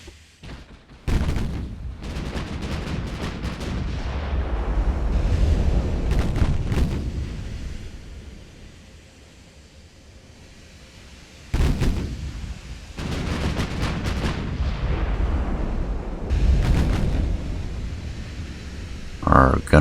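Naval gunfire in the warship combat game Ultimate Admiral: Dreadnoughts, with heavy booming salvos and rumbling blasts rolling in clusters over a steady low roar, easing into a quieter stretch before another barrage erupts.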